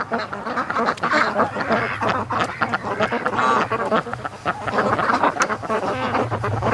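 Ducks on a lake call in a busy, continuous chorus of quacks, with dense overlapping calls close by and steady background noise throughout.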